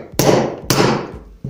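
A hammer strikes a piece of steel to knock the heatsink off a CPU: three sharp, loud, close impacts, each ringing briefly before the next blow, with no talk.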